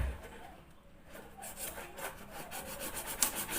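A knife cuts through material for a school science exhibition project, giving a steady rasping, rubbing scrape with repeated strokes that grow louder and closer toward the end, heard alone without talk.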